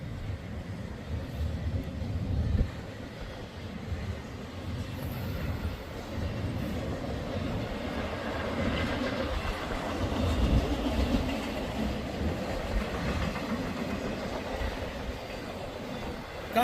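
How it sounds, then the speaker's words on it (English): A freight train, apparently a UPS intermodal, rumbles past a rail crossing in Ohio on the nearby track, a steady loud roll of cars with faint clickety-clack from the wheels. "UPS train of some type."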